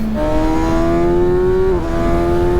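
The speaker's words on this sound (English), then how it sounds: "Doing a test ride, Kawasaki ZX6R." A Kawasaki ZX6R sport motorcycle revs hard on a test ride, its high-pitched engine whine climbing steadily, dipping briefly at a shift and rising again, loud and close over steady road and wind rush.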